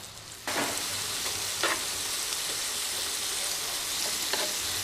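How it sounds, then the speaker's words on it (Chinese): Pork belly sizzles and crackles steadily on a large grill pan used for roasting fish and meat, a close continuous frying hiss with occasional louder pops, no talking. "这五花肉倒是烤的滋滋冒油。"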